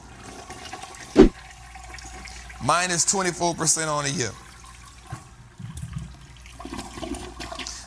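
A toilet flush sound effect roars up in a loud rushing swirl, drains and trickles away, with someone talking before and after it.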